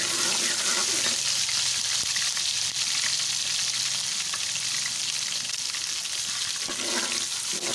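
Garlic ginger paste fries in a pan with a steady, loud, close sizzle and a few faint scrapes of stirring, and no talk is heard over it.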